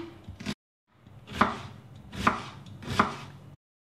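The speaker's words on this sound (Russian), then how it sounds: "Лук нарезаю кубиками." A knife dices an onion on a cutting board in three firm, evenly spaced strokes, close and crisp, after one brief cut.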